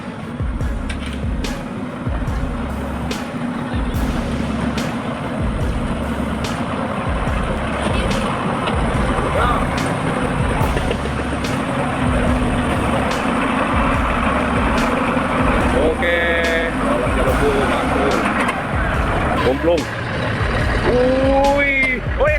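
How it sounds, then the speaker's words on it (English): Huge trucks labouring along a muddy red dirt road, a continuous heavy engine rumble with air-brake hisses and clanks. The drone stays loud and steady throughout. "Huge trucks struggled on the red dirt road, thick with mud."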